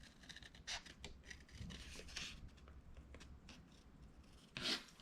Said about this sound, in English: I am just going to cut around and just trim this out.